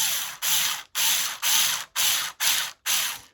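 Screws are tightened by hand with a ratcheting tool: seven even bursts of crisp ratchet clicking about half a second apart, close and fairly loud, with brief pauses between strokes.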